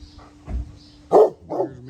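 Two or three separate barks from a pair of dogs, one black and one brown, sounding fairly close and distinct, with a low thump before them and a faint steady hum underneath.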